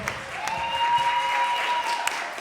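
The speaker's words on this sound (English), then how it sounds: "Let's please give them a round of applause." Applause from an audience for a youth apprentice panel at a people's assembly, a brief steady burst of clapping with a faint sustained tone in the room, no talking.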